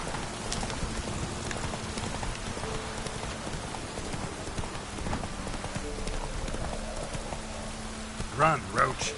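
The horse Roach trots through rain in a fantasy video game, with steady clip-clopping hooves under a constant patter of rainfall and a brief louder flourish near the end.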